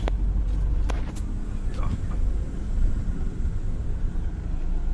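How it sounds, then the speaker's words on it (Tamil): A vehicle rolls into the underground parking of a newly opened cinema in Madurai, giving a continuous low engine rumble with a few faint clicks and a muffled, enclosed drone throughout. "வண்டி உள்ளே போய் பார்க்கிங்கு உள்ளே போய்கிட்டு இருக்கேன்"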